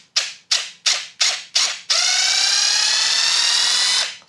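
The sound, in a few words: Ryobi RID18X-0 impact driver unscrewing in automatic mode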